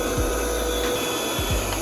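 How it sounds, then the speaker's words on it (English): Vacuum cleaner droning steadily while cleaning a PC's hard drive bay, a constant whine with a couple of brief low scraping bumps as the nozzle moves, close and fairly loud. "And also a vacuum cleaner."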